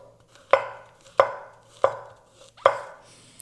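Knife chopping mushrooms on a cutting board in a home kitchen, four sharp, evenly spaced cuts close by, each with a short decay, and no talk.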